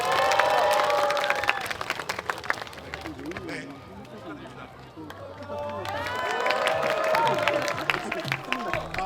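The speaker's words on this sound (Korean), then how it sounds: "매번 재밌는 게임을 준비해 주신 캠핑본 대표님께 박수 한번 부탁드립니다." Crowd applause and cheering at the Hocamp camping festival, a three-day camping event, with clapping swelling, easing in the middle, then rising again while voices call out and a speaker talks over it.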